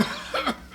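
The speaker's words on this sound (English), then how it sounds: "That cough sounds worse than ever to me." A man gives a short, rough cough in a radio mystery drama, one brief close burst in a quiet room.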